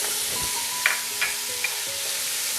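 A soft, steady sizzle of garlic ginger paste frying in a pan for dal tadka, with a few light clinks of a utensil stirring.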